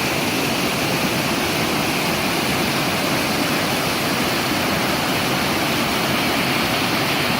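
A waterfall heard from its top, a steady, dense rushing roar of falling water that stays loud and unbroken throughout, with no voices.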